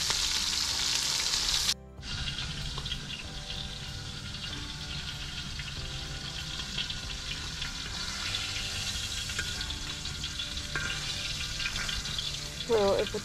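Bacon frying in hot grease hisses and crackles steadily at close range for the whole stretch, broken by one brief dip early on, with faint voices talking over it.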